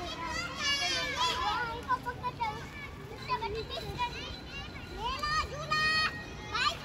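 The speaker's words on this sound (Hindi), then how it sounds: "बच्चे सारे पार्क में आए हैं," Children shouting and chattering at play in a park in Bahria Town during light rain, high excited voices rising and falling in bursts over a steady outdoor background.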